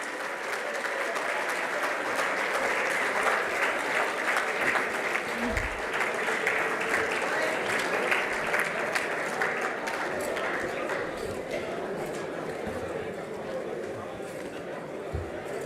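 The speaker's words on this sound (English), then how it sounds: "Give them a big round of applause." Applause from an audience for poster competition winners at an AI and cybersecurity panel event. Many hands clap steadily for a long stretch, with a few low thumps and murmurs of voices beneath, easing slightly toward the end.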